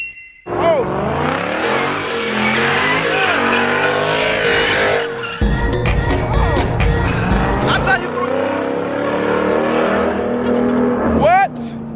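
A car doing a donut, with squealing tires and a revving engine that roll on loudly and continuously, while people talk and shout over the noise.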